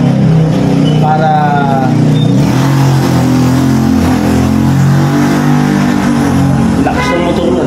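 A motorcycle engine revs loudly and continuously nearby, rising and falling in pitch with a couple of sharp throttle bursts, while a voice talks over it.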